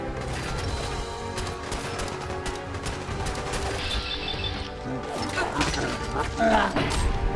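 Enemy gunfire in Fallout 4: repeated clattering shots and mechanical clanks fill a busy game scene, with a voice talking over the action throughout.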